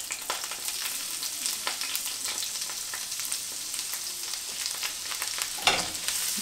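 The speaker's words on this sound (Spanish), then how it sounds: "en la misma grasa que quedó de la mantequilla y el aceite, vamos a agregar los ajos picados" Minced garlic fries in leftover butter and oil from browning chicken breasts, giving a close, steady sizzle with small crackling pops and occasional stirring, and no voices.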